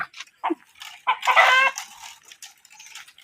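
A rooster clucks and squawks in agitated bursts as it flees, loud and close, with a longer raucous cry in the middle and scattered rustling between calls.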